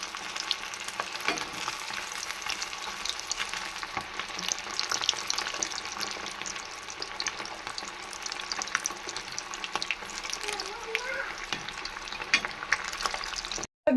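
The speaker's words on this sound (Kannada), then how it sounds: "ಮೀನು ನಾನು ಫಸ್ಟ್ ಟೈಮ್ ಈ ಥರ ರವಾ ಫ್ರೈ ಮಾಡ್ತಾ ಇರೋದು" Bhutai (sardine) fish coated in rava sizzles steadily in hot oil in a pan, a dense continuous close frying crackle with faint water-like hiss and no talk, cut off abruptly at the end.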